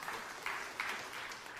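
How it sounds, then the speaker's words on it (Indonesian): A church congregation applauds during a sermon, faint and distant, a brief wash of clapping with a few slightly stronger swells. "tepuk tangan yang meriah untuk kemuliaan Tuhan"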